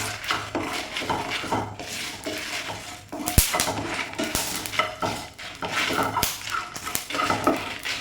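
Whole spices, bay leaf, fennel and coriander, dry roasted in a pan for Kerala-style chicken roast, with repeated scraping and clinking of a spatula against the pan in an uneven rhythm, close and clear.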